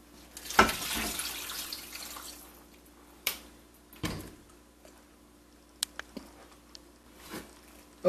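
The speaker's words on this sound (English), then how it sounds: "we're then going to take water, put water into it" Water poured into a soup pot for a vegetable chicken soup, a brief splashing burst near the start followed by softer trickling and scattered drips and clinks, fairly quiet and close.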